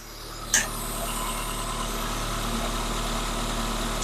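Old car engine idling steadily right after being started, a close, even mechanical hum with a sharp click near the start and again at the end.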